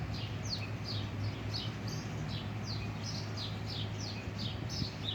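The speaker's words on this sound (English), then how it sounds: "Y'all hear the birds?" Small birds chirping outdoors in quick, repeated high tweets over a steady low background hum, fairly faint and without talk.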